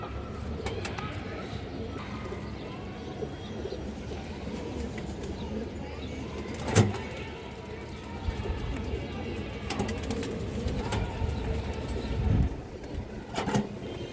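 Domestic pigeons coo steadily at a loft selling high flyers, a low murmuring chorus that runs throughout with a few sharper clicks and flutters. Someone talks over them.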